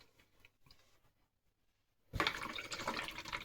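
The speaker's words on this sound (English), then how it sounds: "Give my brush a bit of a rinse." A paintbrush used for watercolour is swished and rinsed in water with a close, brief splashing and sloshing after a few faint taps and clicks.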